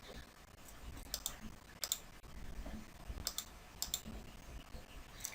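Quiet clicking of a computer keyboard as a file name is typed to save a Word document, scattered light keystrokes in small clusters over a faint background hum.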